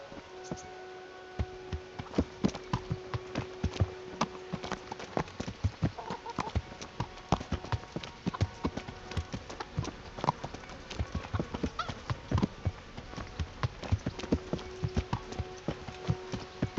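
Horse hooves clip-clop steadily on hard ground in the medieval video game Kingdom Come: Deliverance. The beats come at an even walking rhythm and stay fairly faint against a quiet background.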